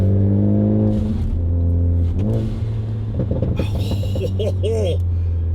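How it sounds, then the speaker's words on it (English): A Ford Focus ST driving on new Michelin Pilot Sport 4S tires, a steady low engine drone inside the cabin with a brief rising rev, while someone talks over it. "First little drive on these new Pilot Sport 4S tires by Michelin"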